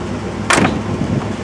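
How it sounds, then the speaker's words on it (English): A solid, single thud as the heavy door of a 1967 Cadillac Eldorado is shut, short and close, with a faint rattle after it over a quiet background. "Even the door shutting."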